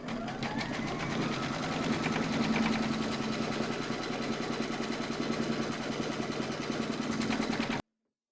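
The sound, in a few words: embroidery machine stitching a round on hooped coaster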